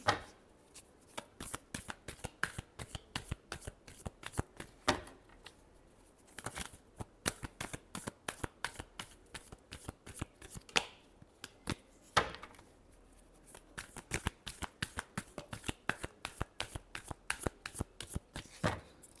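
Tarot cards being shuffled by hand in a steady run of crisp riffling bursts and slaps that repeat for the whole stretch, close and clear, with no talk.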